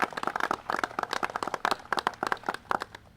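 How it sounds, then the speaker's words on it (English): Audience applause for the hosts at a public event, with many claps forming a steady, fairly close wash that holds for a few seconds. "Let's give them a round of applause"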